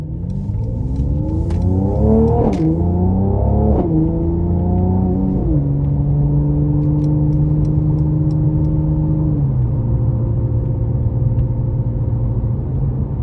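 A 2018 Mercedes-Benz C43 AMG Coupe in Sport Plus mode accelerates hard, its engine climbing through revs with clear upshifts that drop the pitch each time, loud and close from inside the cabin.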